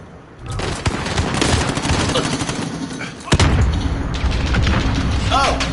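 Gunfire in a PS4 shooter game, with bursts of automatic fire and sharp shots running steadily throughout, a heavy bang near the middle, and game voice callouts mixed under the shooting.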